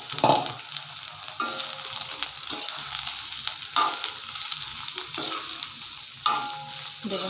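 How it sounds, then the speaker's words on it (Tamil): Onions drop into hot oil and fry for dry fish thokku, a loud, bright sizzle with several bursts and scraping stirs of a spatula in the pan, close up and without speech. "இந்த வெங்காயத்தை இந்த எண்ணெயில் போட்டுக்கலாம்."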